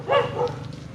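A dog gives one short, close bark that is followed by a softer second yelp, with faint background noise around them.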